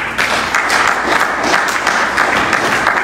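Loud, sustained applause from a congregation at a church sermon, a dense wash of many hands clapping continuously for about three seconds, with no voice on top.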